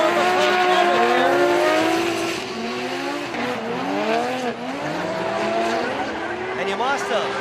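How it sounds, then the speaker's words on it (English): The TMS Racing Team Good Ride E92 BMW drift car screams through a Formula Drift Japan run, its engine note rising and falling as it revs in tandem with a chase car, under commentary. "driving the TMS Racing Team Good Ride E92 BMW"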